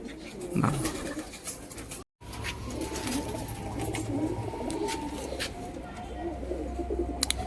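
Kalanka pigeons kept at a home loft coo steadily and softly throughout, a low rolling murmur close by with a short break near the start and light background noise.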